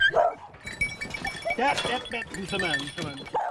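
Four hunting dogs bark together at a pet-boarding place, with sharp nearby barks mixed with human voices talking over them.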